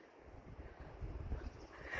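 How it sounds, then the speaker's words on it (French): Steady outdoor wind by the sea with mountains behind, a low rumbling buffet that swells and gusts toward the end, alone without speech. "Par contre, il y a du vent."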